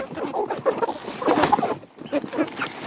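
Three-month-old chickens cluck and chatter close by in short, overlapping bursts, with a brief lull before more clucking resumes.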